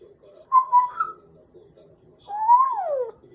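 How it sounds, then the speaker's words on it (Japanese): A grey parrot whistles two short tones, pauses, then gives a longer gliding whistle that rises and falls, close and clear against a quiet room. "上手ね、口笛。"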